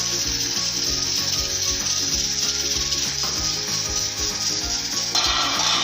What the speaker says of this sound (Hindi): अब इसको थोड़ा सा मिक्स करेंगे।